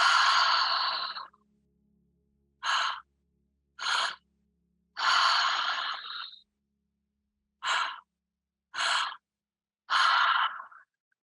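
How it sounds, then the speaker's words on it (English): Deep guided breathwork made of slow, audible breaths, with long airy exhales and shorter inhales separated by silent pauses, seven distinct breath sounds close to the microphone. "Big, generous exhales to really just letting it all go on that exhale, and then just right back in on the inhale."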